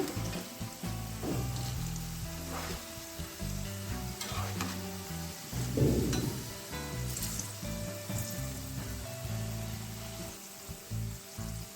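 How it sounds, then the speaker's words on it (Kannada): Okra, or lady's finger, frying slowly on a low flame for crispy bhindi, a steady close sizzle with soft scrapes and stirs as the pieces are turned, with no talking. "ನಿಧಾನ ಉರಿಲಿ ನಾವು ಇದನ್ನು ಫ್ರೈ ಮಾಡ್ಕೊಳ್ಳೋಣ ಹಾಗೆ ನಿಧಾನಕ್ಕೆ ಟರ್ನ್ ಮಾಡ್ಕೊಳ್ಳೋಣ"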